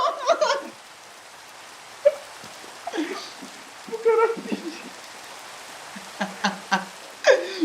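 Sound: rain in the video game Minecraft

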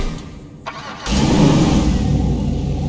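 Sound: muscle car engine revving in video game

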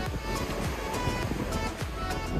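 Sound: sea waves coming from both sides

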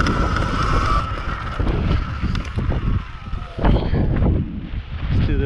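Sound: strong wind while riding a Surron electric dirt bike

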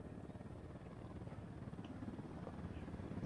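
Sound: helicopter in a video game

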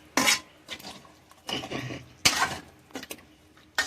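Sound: stirring dried fish curry in a pot

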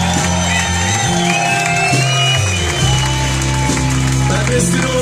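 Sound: audience applause and cheering at concert

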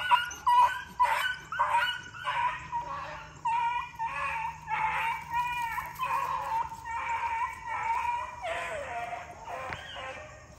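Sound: beagle puppy barking on a deer trail

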